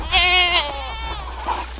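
Goats bleat loudly and close on a farm where they are being fed watermelon, two long wavering calls in quick succession followed by a fainter bleat, with a low background hum.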